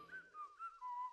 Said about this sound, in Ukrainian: Хто свистить, то директор